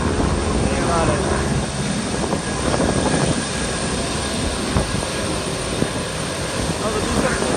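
Aircraft roaring overhead at the 2020 Ellington air show, a loud continuous engine drone that fills the whole clip with crowd noise and voices underneath.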